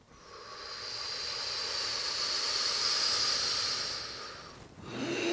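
A long, airy breath drawn in through the mouth gives a steady hissing rush that swells and fades over several seconds, then an exhale through the nose begins, close and alone.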